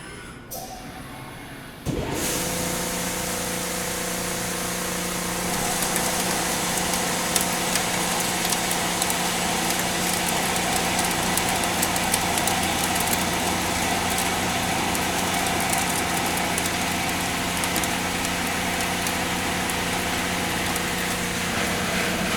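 Rough boring cut on a metal-cutting machining center with a BIG KAISER boring tool, where a machine hum starts abruptly and settles into a loud continuous whir with steady tonal drone and faint chattering texture throughout.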